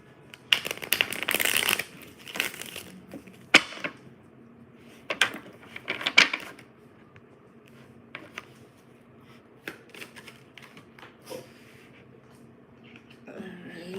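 Tarot cards being shuffled during a card-reading session, with bursts of riffling and rustling paper in the first few seconds, then scattered softer taps and slides, close and fairly quiet.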